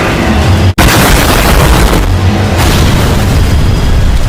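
Loud, heavily distorted roaring boom, with a sharp gunshot-like crack near the start and rumbling blast of an oil tank exploding inside a shark's mouth that fills the rest.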